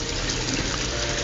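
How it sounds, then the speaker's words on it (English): Water in an aquaponics setup pours and drains back into a fish tank, giving a steady, close, full splashing rush without pause. "the water will be filtered by the plants and the media, and then that water will drain back in here"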